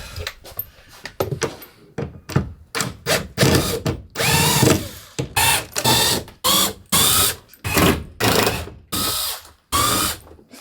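A power drill unscrews fixings from a campervan panel in a run of short, evenly spaced whirring bursts with brief pauses between, loud and close, with no talking.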